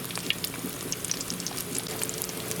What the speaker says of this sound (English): Here I have our fried rice, deep fried.